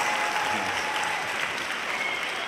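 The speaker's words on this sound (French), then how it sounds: "On peut l'applaudir." An audience at an evening church conference gives a steady, sustained round of applause, a dense, even wash of clapping that carries on without pause through the short stretch.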